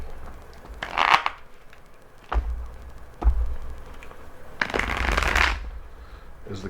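A deck of tarot cards shuffled close by: a short papery riffle, a few soft taps and clicks, then a longer, louder riffling burst near the end.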